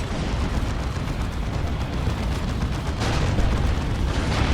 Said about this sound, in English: a creeping barrage from WhipLash.